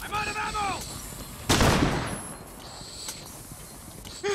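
Video game gunfire: one sharp, loud shot bursting out midway, then a fainter pop later, over game ambience with voices shouting before the blast.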